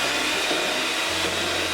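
An electric hand beater whirs steadily through sponge cake batter, a loud continuous motor drone that holds even throughout, with a slight drop in pitch near the end and no voices.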